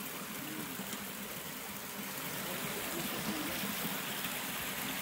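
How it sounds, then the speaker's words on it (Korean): Stream water flows near a small waterfall in a forest at Muir Woods National Monument, a steady, continuous rushing and trickling with no voices. "그 다음에 여기는 폭포?"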